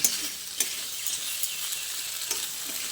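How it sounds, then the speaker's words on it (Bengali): Mixed vegetable curry (panchmishali torkari) stirred in a pan: a steady close sizzle with repeated scraping strokes and small clicks at an even rhythm, no talking. "তারপর আবারও একটু ভালো করে সব কিছুকে একসঙ্গে নেড়েচেড়ে মিশিয়ে নিচ্ছি।"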